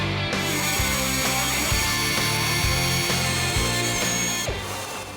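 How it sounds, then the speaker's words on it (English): Power drill boring pilot holes through a custom bumper panel for a Buick Regal, a steady loud whirring grind with periodic dips as the bit bites, running continuously without speech. "We'll center punch where we need to drill, make our pilot holes."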